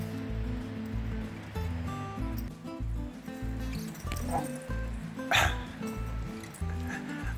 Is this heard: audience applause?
no